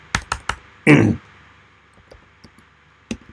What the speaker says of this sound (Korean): 타이핑을 해서